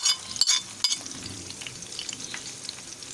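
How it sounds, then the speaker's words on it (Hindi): Garlic and green chillies sizzling in hot oil for a mung and masoor dal tadka, a steady close crackle with a couple of sharp pops near the start and soft stirring throughout. "अब हम इसमें लहसुन डाल देंगे, इसी के साथ फ्राई हो जाएगा अच्छे से।"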